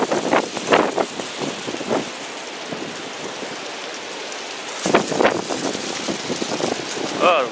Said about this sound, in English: Oh, the wind is definitely blowing outside.